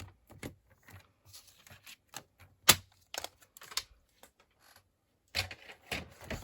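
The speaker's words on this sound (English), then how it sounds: "I'm going to score that in half" Scoring a paper strip in half on a scoring board while making a card index box from packaging: a series of sharp, dry taps and scrapes, scattered and close, with one louder snap midway and a brief burst near the end.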